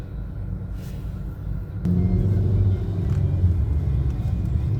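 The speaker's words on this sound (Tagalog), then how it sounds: "ganda ng mga sasakyan dito sa Dubai." Cars driving along a street in Dubai at night, a continuous low traffic rumble with a vehicle passing close by, no talk.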